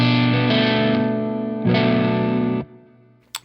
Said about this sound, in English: To me, that's a more pleasing neck pickup sound with the volume rolled back.